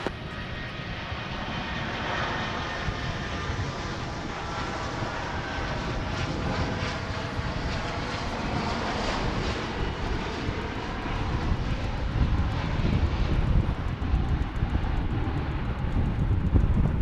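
An airplane's jet engines roar as it takes off from runway 18 left at Dallas/Fort Worth Airport, a steady, broad rumble heard from a distance that swells gradually louder, with no talk.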